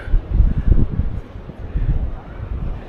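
Gusty wind buffets the microphone in low rumbling bursts at the harbour sea front in Paphos on a Saturday night, with faint indistinct background noise beneath.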